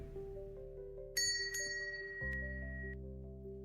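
In a visual novel game, a bell hanging on a cafe door chimes as the door opens. Clear, bright rings sound over soft background music, with one strong strike followed by a second strike and a lingering tone.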